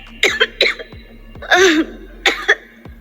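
A woman coughs hard in a dusty basement, several sharp close coughs in quick bursts with one longer rasping hack in the middle, no speech.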